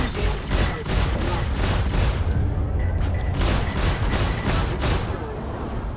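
Missiles and rockets firing in rapid succession during a Star Citizen Arena Commander dogfight, a dense barrage of booming, crackling launches and blasts that continues loudly throughout.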